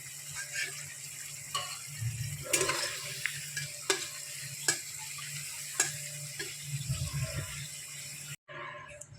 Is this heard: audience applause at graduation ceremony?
no